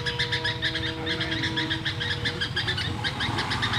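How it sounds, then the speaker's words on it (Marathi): Outdoor birdsong with peacocks and sparrows calling in a green rural setting, repeated bright chirping calls in a steady rhythm over a low background hum, fairly close and continuous. "मोरांचे आवाज आपण ऐकत आहात"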